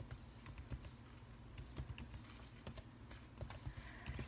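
Someone types on a computer keyboard, a quiet run of irregular clicks close by with no voice.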